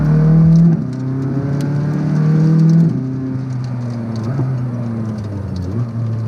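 McLaren 600LT supercar accelerating up canyon hills, its engine note climbing through loud, smooth harmonic sweeps with a pitch drop at a gear change, close and continuous with no talk.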